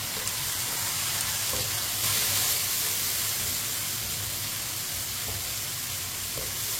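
Tomatoes and green chillies cook in a hot pan for a bhindi dish, giving a loud, continuous close sizzle and steam hiss that stays even throughout with no talking.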